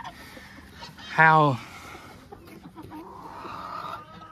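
Chickens cluck nearby, with one loud, drawn-out squawk near the start and softer clucks afterward while a person speaks.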